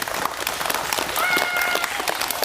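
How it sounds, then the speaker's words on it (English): An audience applauds firefighters, a dense wash of clapping from many hands that holds steady, with a brief whistle-like tone partway through. "Let's give our firefighters a round of applause"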